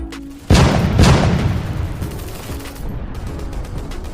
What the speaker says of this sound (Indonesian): Dah main meriam pula dia.